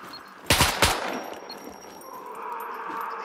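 Two sharp, loud gunfire bursts from an RPK light machine gun in the game SCUM in quick succession, followed by a fading ring and low ambient hum.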